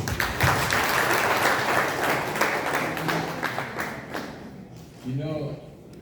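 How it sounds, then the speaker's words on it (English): Audience applause at an alumni dinner, a dense, loud burst of many hands clapping that thins out near the end, followed by someone speaking briefly as the clapping fades. "Members, another applause for him."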